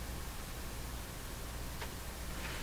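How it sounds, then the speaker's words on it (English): Faint, steady hiss of static from the speaker of a Hammarlund HC-10 vacuum tube converter setup, an even broadband crackle running the whole time with no voices. "I can hear the speaker, you probably can too, just a little bit of static."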